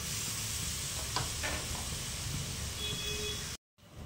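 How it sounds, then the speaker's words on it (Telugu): Radish leaves frying in a little oil in a pan over low gas, a continuous close sizzle with a few stirring scrapes and faint beeps, cutting out to silence briefly near the end. "ఎగ్దమ్ గ్యాస్ని సిమ్లో పెట్టే మనం ఈ ఆకుకూరని వేయించుకోవాలి"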